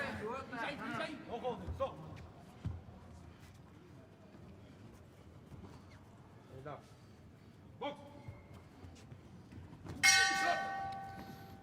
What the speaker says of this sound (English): Now goes the bell at the end of the second round